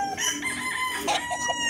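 A Sweater-breed gamefowl rooster of Jerry Jenkins imported lines from MRA Game Farm crows once at moderate distance, a short harsh call over background noise and other faint bird sounds.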